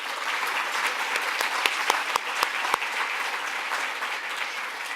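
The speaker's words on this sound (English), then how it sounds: "A big round of applause for the entire Chamber team." Steady applause from a crowd, a wash of many hands clapping at an even level, with a few sharper claps standing out.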